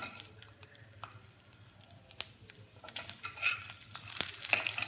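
Small onions fry in oil in a kadai, making a soft, quiet sizzle with scattered clinks and scrapes of a spoon that grow louder and busier toward the end, with no talking.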